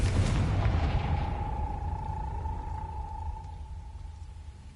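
A Confringo spell blast in the video game Hogwarts Legacy erupts as a deep booming explosion with rumbling low end that slowly decays, leaving a lingering ringing tone.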